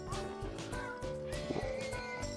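Horses neighing and whinnying in the video game Minecraft, loud, shrill and overlapping cries, close and continuous throughout.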